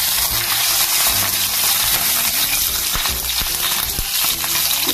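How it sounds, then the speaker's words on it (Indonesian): Fish dropped into heated oil in a pan sizzles and crackles loudly and continuously, with small pops and clinks of utensils close by. "Iwaknya tak goreng sih guys, kayak minyaknya tak panasi, jadi iwaknya tak cemplung guys"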